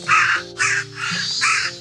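A crow caws overhead in four loud, harsh calls at a steady rhythm, close and alone with no talking, on a street in the historic town of Hiraizumi, Iwate.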